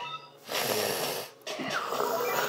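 Two sharp nasal sniffs, close and loud, separated by a brief pause, each a breathy rush of air, during play of the game The Battle Cats.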